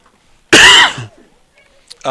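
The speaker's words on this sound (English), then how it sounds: "I didn't mean to cough in the mic" A single loud, harsh cough close to the microphone at a baseball game broadcast, followed by near silence and a faint breath or sound at the end.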